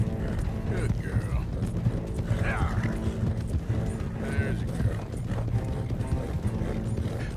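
A horse's hooves clip-clop steadily in the video game Red Dead Redemption 2, with creaking tack and a brief whinny over a constant background rumble.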